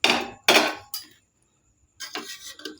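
A lid is lifted from a pot of khichuri cooking on low heat, giving a few close metallic knocks and clinks, a brief quiet gap, then more rattling, with no speech heard.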